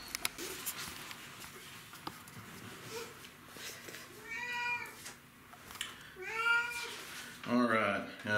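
Pet cat meowing a few times, the short rising calls fairly close and clear, with a person talking softly around them.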